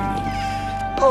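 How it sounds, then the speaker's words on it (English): A cartoon cat lets out a drawn-out meow that rises sharply at the end, heard close and clear over a sustained tonal background. "Oh, now look what you've done, you good-for-nothing cat."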